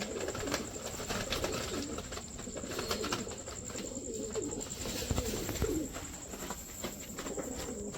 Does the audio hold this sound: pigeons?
yes